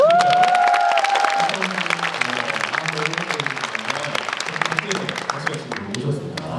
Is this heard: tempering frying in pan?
no